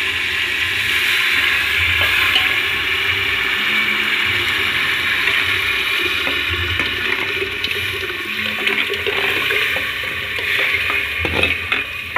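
Water being poured into a pot of rice as it cooks, a steady, fairly loud rushing hiss with a sizzling, bubbling texture that runs unbroken for the whole stretch, with no voices.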